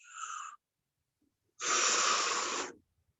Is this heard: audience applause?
no